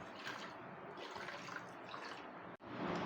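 Water poured from a cup onto about 1.25 cups of sugar in a pan to start jalebi syrup, a steady close splashing and trickling for around three seconds with a brief drop near the end.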